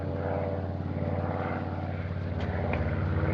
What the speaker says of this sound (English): Gee, look at that big new plane up there.